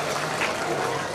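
Audience applause welcoming a guest at a student honour ceremony held by a Sadhu community trust: a dense, steady patter of many hands clapping together, fairly loud and continuous across the short stretch.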